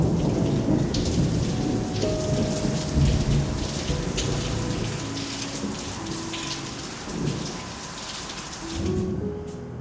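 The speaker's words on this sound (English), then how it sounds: "I'm also really happy that we got an unexpected thunderstorm" Steady rain pours down beside an open back door as a thunderstorm rolls through, with low rumbles of thunder swelling under the hiss of rain for the whole stretch before easing at the very end.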